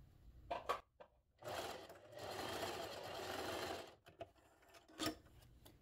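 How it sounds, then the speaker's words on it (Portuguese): A sewing machine stitching the fabric sleeve of a small blouse for a tabletop scarecrow candy holder: a few quick clicks, then a steady whirring run of stitches for about two and a half seconds, then scattered faint clicks and one more brief burst. "Costurei uma manga. Venho costurando a outra."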